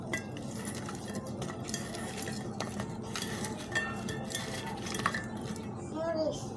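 Amra (hog plum) being hand-mixed with salt and mustard oil for bharta, giving a steady close-up wet mashing and squelching with occasional clinks of a bowl or utensil, continuous throughout with no talking.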